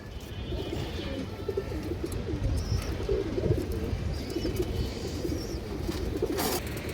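Pigeons of a colouring and high-flyer collection coo in a low, steady murmur, a continuous layered cooing from several birds close by, with faint higher chirps above it and no talking.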